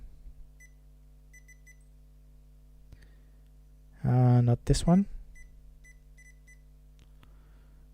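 Electronic beeps from a tablet being converted into a power bank as it begins charging, heard as a loud burst of tonal chirps partway through over a steady hum, with a quiet voice speaking.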